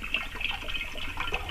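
Water poured from a container into a metal pot of a Yugoslavian camping cooker at a hut, a steady close splashing fill lasting a moment with no talk.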